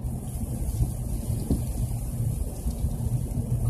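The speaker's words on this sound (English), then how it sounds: "it's just raining a little too hard at the moment" Heavy rain pours steadily on a vehicle's roof while driving at about 9,700 feet in snowy mountains, a low, continuous drumming rumble, with no voices.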